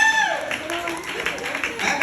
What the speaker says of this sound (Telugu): చప్పట్లు కట్టండి.